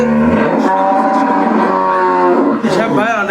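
Friesian and Gir dairy cows on a farm give a long, loud, close moo that wavers in pitch and fills the whole moment, followed by a shorter second call.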